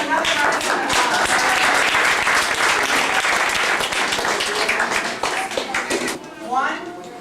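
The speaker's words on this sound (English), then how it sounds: "We can give them another round of applause." Steady, dense applause from the audience at a violin recital fills the room for several seconds, then thins and fades as a voice begins to speak.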